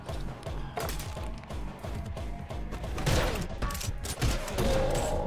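Rapid, dense gunfire in the video game Anger Foot, a steady barrage of overlapping shots and thuds that runs the whole time and swells near the end.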